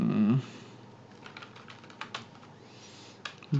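A short run of keyboard typing entering a Google search, sparse clicks and taps heard close after a brief voice at the start.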